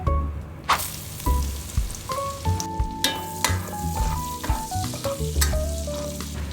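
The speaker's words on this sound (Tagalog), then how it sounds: "Dito na ako magigisa ng aking mga ingredients." Ingredients for pancit canton sauté in hot oil in a pan, a steady close sizzle broken by regular scraping and clanking of stirring.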